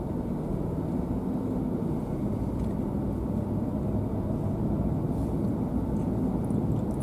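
Car pulling away in first gear on a road across a Hawaiian lava field, a steady low engine and road rumble, fairly quiet and continuous throughout.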